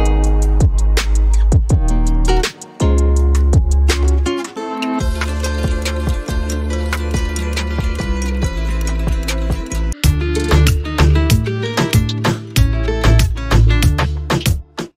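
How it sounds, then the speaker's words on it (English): Latin guitar samples from the Slate Digital Vibras pack, loud rhythmic strummed and plucked acoustic guitar patterns with percussive accents and short pauses between phrases, played alone. "This is a Latin guitar sample pack in high quality format as well."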